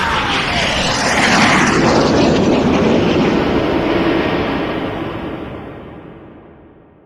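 Kubera's flying Pushpak Vimana chariot roars past in a loud, broad rushing rumble that swells early, then slowly fades away over several seconds, with no voices.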